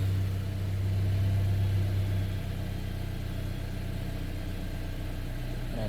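A Volkswagen Golf 5 GTI engine idles steadily just after starting, a low, even hum with a slight drop in level after a couple of seconds.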